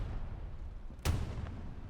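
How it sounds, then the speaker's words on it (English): Two distant explosions in the World War II shooter Hell Let Loose, a sharp boom followed half a second later by a fainter second blast, over quiet battlefield background. "2 explosions happening in the back line."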